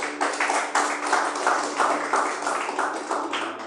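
A church congregation claps together in a steady, even rhythm, many hands beating at once, loud and close, continuing for several seconds.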